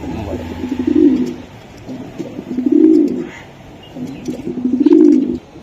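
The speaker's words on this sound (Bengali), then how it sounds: "এই যে দেন এই কবুতরগুলো আমি একটু দেখাই দিই আপনাদেরকে" Pigeons at a seller's stall, including Budapest and racer breeds, coo in three loud, close, rolling bouts with soft chirps in the background.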